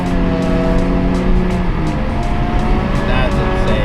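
Race cars at a touge rally roar off one after another, engines revving loud and close in a dense continuous drone with rising pitch sweeps as they accelerate away.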